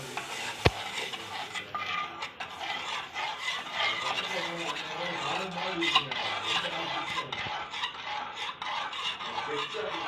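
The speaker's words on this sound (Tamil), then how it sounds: "இப்போ நல்லா ஸ்டர் பண்ணிக்கணும்." Milk is stirred into a bechamel sauce in a pan, giving a continuous scraping and rasping of a utensil against the pan with faint sizzling, broken by one sharp clink near the start.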